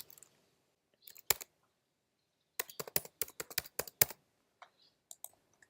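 A password is typed on a computer keyboard in short bursts, with sharp, close key clicks clustered in a rapid run and scattered lighter taps around it.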